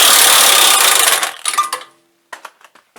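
An impact wrench tightens suspension bolts on a Grand Prix. One loud burst lasts about a second and a half, then a few fading rattles and sharp metallic clicks follow after a brief silence.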